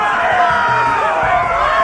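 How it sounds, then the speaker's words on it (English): A dense arena crowd in a Game of Thrones video game roars and murmurs continuously, a loud wash of many voices with faint cheering throughout. "Hear that, boy? We cannot let the crowd go wanting!"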